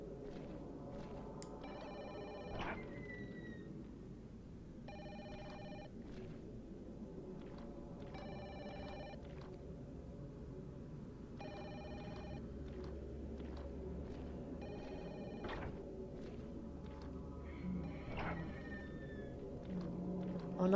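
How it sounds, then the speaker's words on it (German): An old-style telephone rings in the horror video game Project Zero: Maiden of Black Water, with seven evenly spaced, bright trilling rings over a faint ambient drone and no talking. "Klingt das Telefon hier?"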